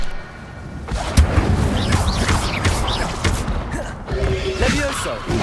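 Incendio fire spell cast in Hogwarts Legacy, a continuous rumbling, crackling blast with mechanical clanks and booms that stays loud throughout.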